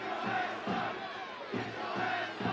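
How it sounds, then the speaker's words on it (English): Stadium crowd at a soccer match between Oakland Roots SC and Orange County SC roars and chants in rising and falling waves, a dense, distant mass of voices with no clear commentary over it. "Crowd telling him to take all the time he needs."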